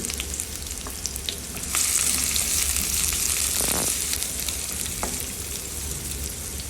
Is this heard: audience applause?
no